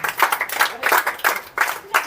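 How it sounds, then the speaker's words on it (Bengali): Scattered clapping at a school Independence Day prize-giving ceremony for Uma, the first-place student, coming in uneven bursts, moderately loud, with small gaps between groups of claps. "উমার জন্য জোরে হাততালি দাও"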